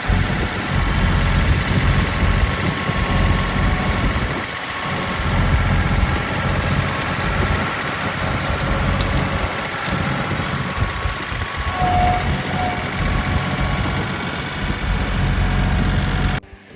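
Digging machine's diesel engine idles steadily at close range with a low, constant rumble and faint vibration, scooping earth at old concrete charcoal kilns, with no talk.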